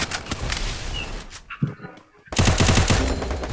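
Rapid bursts of video game gunfire crackle loudly during a Free Fire-style match, with a short lull of quieter shots and faint sounds before another dense volley of repeated shots.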